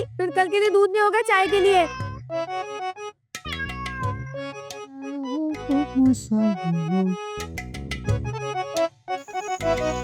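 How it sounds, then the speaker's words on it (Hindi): A cat meows repeatedly in a domestic setting, its rising, wavering cries coming close and loud, mixed with a person talking in Hindi over and between the meows. "ये बिल्ली म्याऊं म्याऊं कर रही है"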